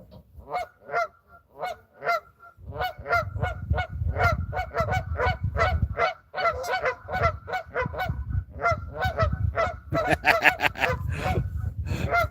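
A flock of geese honks repeatedly and loudly, overlapping calls in an irregular chorus with brief pauses, some birds close and some farther off, as they take flight.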